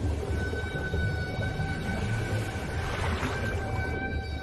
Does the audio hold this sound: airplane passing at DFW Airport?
no